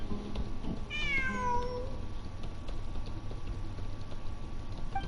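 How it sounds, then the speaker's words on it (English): A single drawn-out meow from a cat in the video game Genshin Impact, clear and fairly close, rising then falling over about a second against a quiet game backdrop. "It really is a cat."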